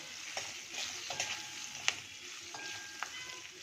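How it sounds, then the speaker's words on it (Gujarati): Green chilies fry in a pan over high flame with a close, continuous hiss and crackle, marked by a few sharp pops and light stirring scrapes. "હવે આપણે મરચાં ઉમેરીશું. હાઈ ફ્લેમ ઉપર આપણે એને 1 મિનિટ પકાવી લઈએ."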